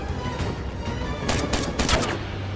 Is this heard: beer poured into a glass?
no